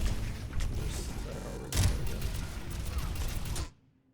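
D.Va's micro missiles fire in a ranked Overwatch match, a loud rapid volley of explosive impacts with a heavier burst midway, cutting off abruptly into near silence near the end.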